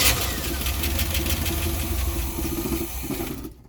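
An old, abandoned Chevy camper van engine running roughly on a small shot of gas, a steady close mid-pitched rumble that holds for about three seconds before cutting out abruptly.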